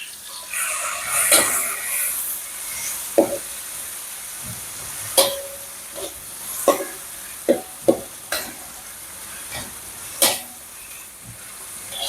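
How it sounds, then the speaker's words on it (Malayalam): Crushed ingredients for Malaysian nasi goreng hitting hot oil, a soft steady hiss broken by scattered sharp pops and clicks of utensils. "ചതച്ച് വെച്ചേക്കുന്ന സാധനം നമുക്ക് എണ്ണയ്ക്കകത്തോട്ട് ചേർത്ത് കൊടുക്കാം"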